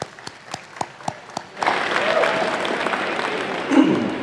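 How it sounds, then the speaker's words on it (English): A round of applause from an audience at a festival celebration with music, art and poetry: a few separate loud claps at first, then a full crowd applause that swells and carries on. "Let's give them another round of applause for that."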